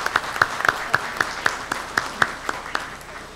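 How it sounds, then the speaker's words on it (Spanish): A congregation at a Catholic Mass claps in a steady, even rhythm, with distinct claps landing on a regular beat, close and fairly loud. "Sarita, vamos a darle un fuerte aplauso a Sarita en su cumpleaños."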